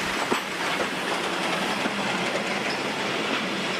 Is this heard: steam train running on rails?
yes